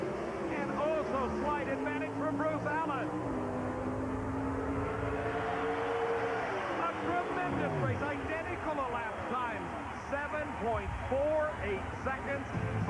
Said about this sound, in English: Lots of RPMs out of these engines.